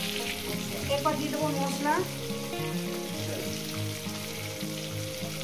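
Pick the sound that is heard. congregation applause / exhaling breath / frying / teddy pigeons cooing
frying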